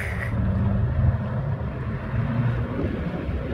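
The engine of a 29-year-old Sea-Doo watercraft, smoking on old fuel, runs on a river. It makes a steady, loud, low rumbling drone with wind and water noise and no talk.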